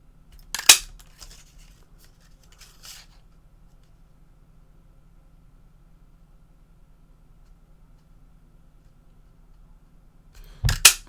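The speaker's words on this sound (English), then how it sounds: "I do like a good old punch, not in the face, but with a craft punch." A handheld craft punch snaps through card stock for a sketch card. There are two sharp, close clicks about ten seconds apart, with near silence between them.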